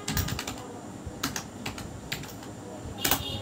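Bursts of quick, crisp keystrokes on a computer keyboard while entering member details into a Java library management program, with short pauses between clusters of taps.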